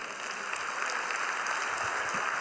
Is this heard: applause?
yes